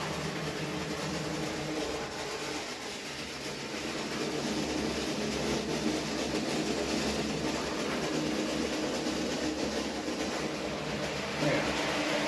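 A model railway Class 66 locomotive runs with a soft, continuous rumbling hum, steady and fairly quiet throughout, alone with no clear talk.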